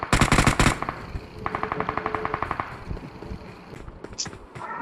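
Automatic weapons fire rapidly during a BGMI mobile battle royale match, with a loud close burst at the start and longer rattling volleys afterward, while players talk over the shooting.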